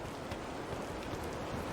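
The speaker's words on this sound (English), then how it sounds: "Looks like it's gonna rain again. Probably another storm." Steady rain in the video game WILL: Follow The Light hisses evenly throughout, a dense broadband patter with no voices, holding at a constant moderate level.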